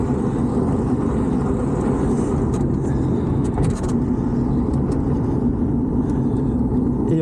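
Steady broadband road and wind rumble fills the enclosed cabin of a Bulk velomobile riding through cold weather, continuous and fairly loud, with faint brief clicks and no speech.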